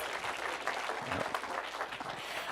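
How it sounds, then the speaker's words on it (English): Conference audience at a web developer event applauds after a talk, steady moderate clapping with a few low voices and cheers underneath. "Give them a round of applause."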